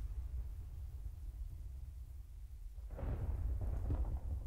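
Thunder from a lightning strike in the Minecraft video game, a low rumbling roll that swells after a quiet stretch and rumbles on to the end, fairly faint.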